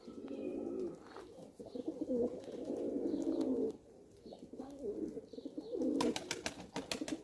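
Pigeons give repeated low cooing phrases in several bouts, fairly close and clear, with short pauses between them and a quick run of sharp clicks or flutters near the end.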